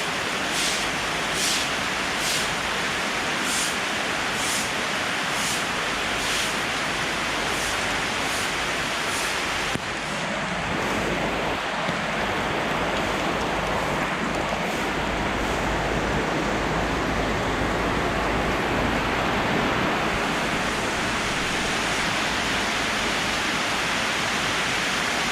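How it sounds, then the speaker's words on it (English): Heavy rain pours down while a large volume of water rushes past in a river and drain, a loud, unbroken roaring hiss that fills the whole stretch. "This rain's been coming down for about 10 minutes now."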